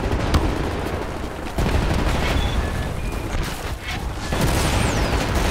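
Machine gun fire in the shooter Wolfenstein: The New Order, dense rattling bursts and booms overlapping in a loud, chaotic battle with scattered distant shots.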